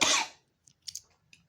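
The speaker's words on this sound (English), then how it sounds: "Again, the coughing." A single short cough sounds close and fairly loud at the start, then a few faint clicks follow in a quiet room with a ceiling fan.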